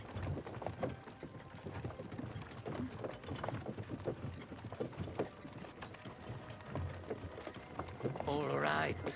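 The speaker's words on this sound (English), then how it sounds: "don't you think maybe we could make the horses go a little faster?" Horses' hooves clip-clop at a steady unhurried pace in a video game about taking down a king, a busy mix of game sound with talk and a rising tone near the end.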